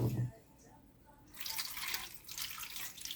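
About a cup of water is splashed into a roasting pan holding a leg of lamb topped with rosemary and thyme, a short near gush that follows a brief voice.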